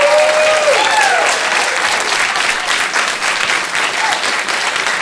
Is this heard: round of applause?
yes